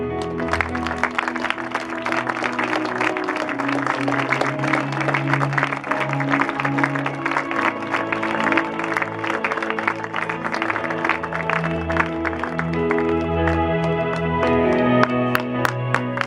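A church congregation claps together in praise, a dense, continuous wash of applause with rhythmic hand claps, music and crowd sound mixed in, holding loud and steady from start to finish.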